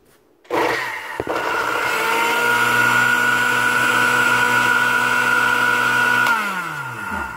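Chopping omelette ingredients, a kitchen blender motor runs steadily for nearly six seconds with a loud, even whine and a rattling click near the start, then spins down at the end.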